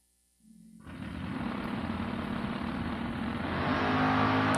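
Door car drag racer, a B&M-sponsored Nova, launches off the start line. The engine explodes from near silence into a loud, sustained, rising roar that stays close and builds to full power.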